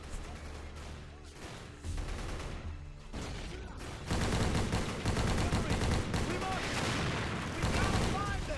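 Gunfire rattles through a Pacific battle in the Medal of Honor video game, with dense bursts building louder after the opening seconds and continuing steadily with no talk.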